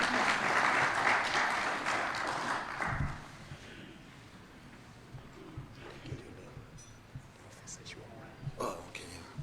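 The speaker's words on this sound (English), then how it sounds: "a round of applause." A workshop audience gives a round of applause, strong at first and then fading out after about three seconds, leaving quiet room noise with scattered taps and brief murmurs.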